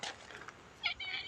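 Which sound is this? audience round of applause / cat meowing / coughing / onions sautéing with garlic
cat meowing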